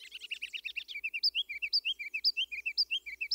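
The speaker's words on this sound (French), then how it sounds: "Dans le prunier, à quelques mètres de moi, un oiseau minuscule qui peut absolument pas émettre un son d'une telle puissance." A tiny olive-green bird the size of a ping-pong ball, with small black bands, sings loudly from a plum tree a few metres away: a rapid trill, then a steady run of bright, repeated chirping notes.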